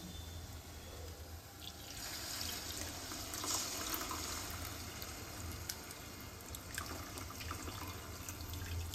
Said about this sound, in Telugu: నానబెట్టిన చింతపండు ఉంది కదా, ఈ సూపు తీసుకు పోసుకోవాలి.